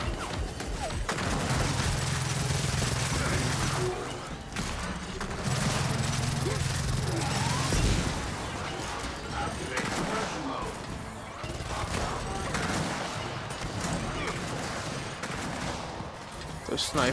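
Sniper and other gunfire crack through a Gears of War 4 firefight, with repeated shots and bursts overlapping loud and close, and a steady low hum running beneath the battle.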